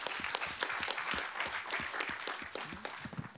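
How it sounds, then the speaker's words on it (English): An auditorium audience at an anti-corruption forum claps warmly for a panel, a steady crackling wash of many hands with sharp individual claps standing out, fairly faint and distant. "please join me in a warm applause for their excellent contribution"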